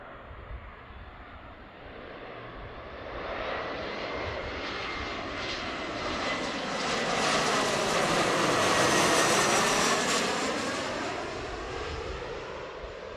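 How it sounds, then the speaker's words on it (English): An Embraer E175 regional jet arriving from Spokane lands at Seattle-Tacoma International, its engine roar swelling steadily as it approaches, peaking loudly overhead, then holding into a broad fading rumble. "our first landing here, E175 coming in from Spokane"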